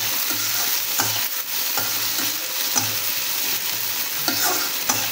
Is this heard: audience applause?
no